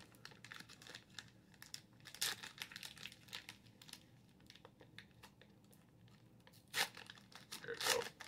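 A 2022 Donruss NFL Football card value pack being torn open, with quiet crinkling foil and sharp rips that peak in a few louder tearing bursts near the end, no talking.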